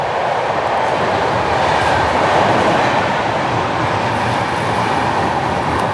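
A train passes close by near Vasai Road, making a loud, steady rushing rumble with rail clatter that holds evenly for the whole stretch, with no voices.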